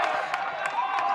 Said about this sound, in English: can hear the crowd. They are pretty lively over there already